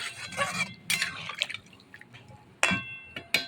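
Water poured into a simmering fish curry in a pan, short splashy pours and drips in separate bursts, close and fairly loud, with no talking.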